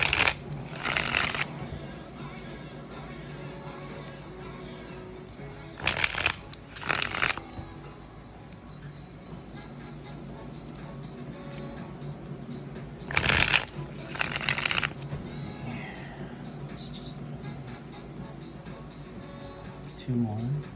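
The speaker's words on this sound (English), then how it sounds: "let's do 5 shuffles." Tarot cards are shuffled in repeated riffling bursts, close and crisp, while a person talks quietly throughout.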